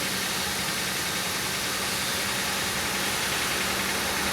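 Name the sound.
Chevy Venture engine idling after harmonic balancer replacement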